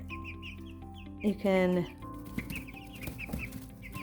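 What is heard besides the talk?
four-week-old chicks clucking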